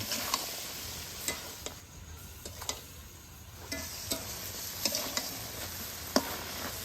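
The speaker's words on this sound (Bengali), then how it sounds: "এবার ভালো করে সব মশলাপাতি একসঙ্গে কষে নিব" Spices being sautéed with mutton tripe in mustard oil, a soft steady sizzle under scattered stirring scrapes and light ticks, quiet and close with no talk.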